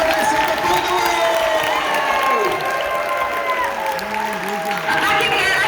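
Crowd applause and cheering after a live music act, dense clapping with whoops mixed with voices and lingering musical tones.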